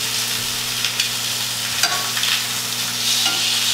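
Chicken frying in a pan, a steady close sizzle with occasional stirring or turning clinks over a constant low electrical hum.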